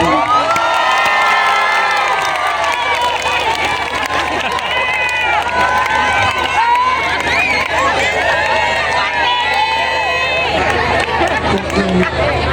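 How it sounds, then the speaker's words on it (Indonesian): A large crowd of women at a New Year's Eve event with the Indonesian president shouts and cheers loudly and continuously, with overlapping high-pitched calls and whoops throughout. "Yang teriak itu emak-emak semua."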